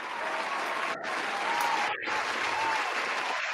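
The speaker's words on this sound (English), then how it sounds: "Round of applause" A round of applause from a small group on a football podcast, steady dense clapping that dips briefly twice before picking back up, fairly close and loud with no talking over it.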